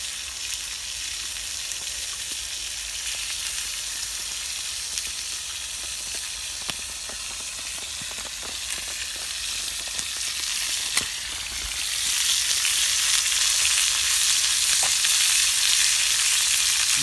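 Continuous loud sizzling and crackling of food frying in a hot pan on a campfire in a winter woodland, with occasional pops, intensifying toward the end.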